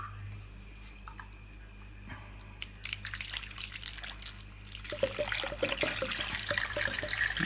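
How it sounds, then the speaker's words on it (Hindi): Water pours into a container over pieces of jaggery for mahua liquor, starting as faint drips and swelling into a steady, hissing splash that grows louder toward the end. "अब इसमें पानी डालेंगे कि ये पानी में डूब जाए।"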